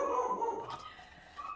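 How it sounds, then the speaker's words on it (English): Short excited yips and whimpery barks from a female dog, close by and moderately loud, with a brief pause in the middle. "Look at the dog, so excited she's barking."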